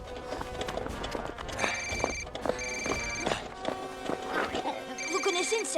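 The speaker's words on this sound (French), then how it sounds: "Marina, tu n'as qu'à décrocher et lui demander de me laisser tranquille." Cartoon telephone ringing in repeated bright electronic trills, several short bursts spaced through the scene, heard over clattering hoof-like footsteps and an excited voice talking.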